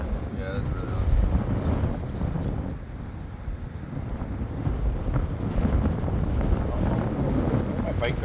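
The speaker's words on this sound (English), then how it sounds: "The wind's super strong right now." Strong outdoor wind buffets the microphone in a continuous low roar that swells and eases over several seconds, with faint talk partly buried beneath it.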